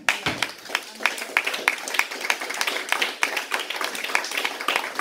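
A church congregation claps in a steady rhythmic beat, moderately loud and close, with a preacher's voice speaking over the clapping.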